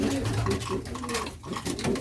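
Soft cooing from a trained pigeon close by, low throaty calls repeating over a faint background clatter.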